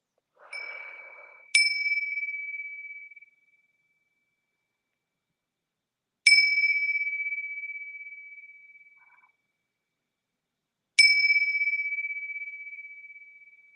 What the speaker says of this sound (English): So when I rung those bells, they're very clear, precise, and concise.